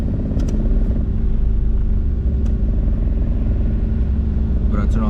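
A car engine idles low and steady, a deep continuous rumble close by with a faint whine above it and brief clicks near the end.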